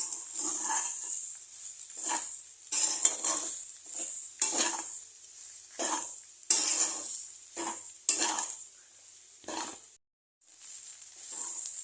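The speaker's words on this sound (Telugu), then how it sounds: "మొత్తం బాగా ఫ్రై చేసుకోవాలి" Amla pulihora, gooseberry rice, fries in a pan with a constant bright sizzle while a spoon repeatedly stirs and scrapes in uneven bursts, and it cuts out briefly near the end.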